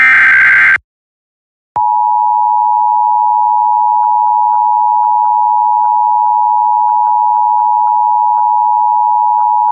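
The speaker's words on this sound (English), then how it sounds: "we are going to interrupt our programming and activate the Playfield TV EAS network for this Oklahoma Amber Alert" Emergency Alert System attention tone for an Oklahoma Amber Alert broadcast, a steady, loud electronic tone held continuously for about eight seconds after a short burst of data-like noise and a brief silence.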